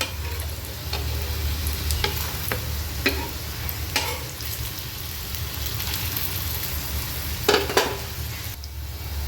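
Green pea vadas fry in a pan of hot oil, giving a steady, dense crackling sizzle with occasional louder pops and a few spatula clicks as they are turned.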